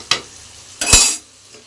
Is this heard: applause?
no